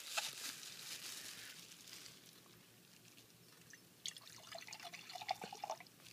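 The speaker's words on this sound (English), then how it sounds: "I'm just gonna pour some into here." Muriatic (hydrochloric) acid pours and trickles into a container, quiet and close, with a splashy onset and a brighter gurgling burst toward the end.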